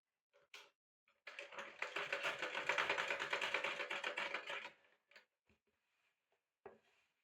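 Sewing machine stitching the seam of an umbrella skirt, a dense continuous run of rapid mechanical needle strokes lasting a few seconds, framed by brief isolated clicks and taps before and after.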